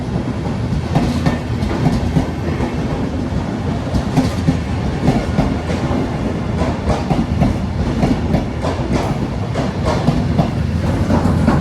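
A regional train rumbles loudly nearby as it arrives at a platform in Venezia Mestre, with rhythmic clickety-clack of wheels over rail joints, a continuous heavy rolling sound.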